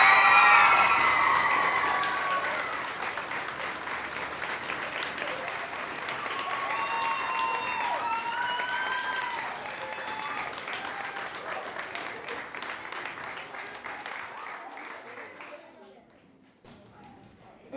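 Audience applause at a youth 12U softball awards ceremony for the girls and their coaches, loud clapping and some cheering that slowly fade out over several seconds, with indistinct voices mixed in.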